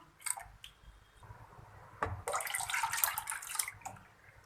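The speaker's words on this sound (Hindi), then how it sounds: "नॉन स्टिक कढ़ाई में हम 1 किलो दूध डाल देंगे" Milk being poured into a non-stick kadai (wok), a soft liquid splash and pour that swells from about two seconds and runs on steadily, close and moderately loud, with small clinks before it.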